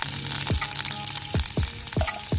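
Curry leaves and mustard seeds crackle in hot oil in a kadhai over a wood-fired chulha, with a continuous sizzle broken by a series of sharp, close pops every half second or so.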